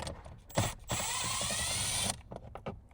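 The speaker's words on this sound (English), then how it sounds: "I'm going to be using a driver just to make it go a little bit quicker." A power driver spins out a 10mm bolt by the glove box of a second-generation Toyota Tacoma, a steady high whirring for about a second after a couple of clicks, with faint handling noises around it.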